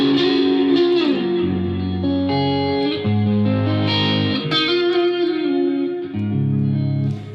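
Warmoth-built electric guitar with noiseless pickups through a Marshall plexi-style patch drenched in delay and reverb, playing loud sustained chords and bends with echoing tails, alone and continuous.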